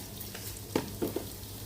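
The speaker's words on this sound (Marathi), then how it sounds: "जिरं छान तडतडू देऊया" A steady, faint sizzle of cumin seeds in hot oil with a few quick popping crackles, close and brief.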